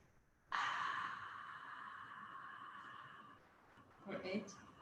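A slow, steady exhale during a breathing exercise, a long breathy rush of air lasting about three seconds, close and fairly loud, followed by a brief breathy sound.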